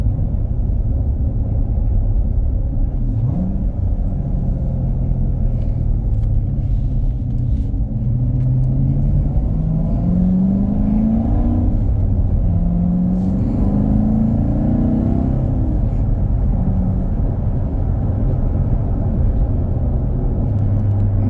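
A Chevrolet C7 Corvette with a springy clutch and automatic rev match, its engine rumbling loudly and continuously from inside the car while driving, with rising and falling pitch as it accelerates and shifts through the gears.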